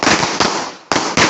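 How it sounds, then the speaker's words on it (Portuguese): Pistol shots fired in a rapid-fire precision sport shooting event with a roughly 50-year-old pistol, four sharp loud cracks in quick succession with short ringing decay between them, no voices. "5 disparos."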